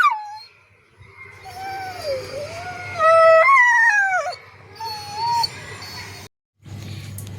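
A dog howls in a drawn-out, wavering voice near a house by a school at recess, rising and falling in several long, loud pulls with a brief pause before the end.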